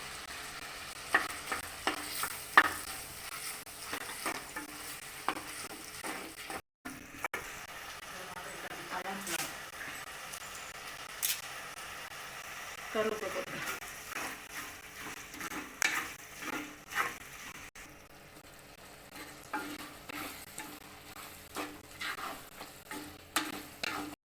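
Ginger garlic paste sizzles quietly in a pan for Chettinad chicken gravy while a spoon stirs and scrapes against it, with soft clicks and occasional speech.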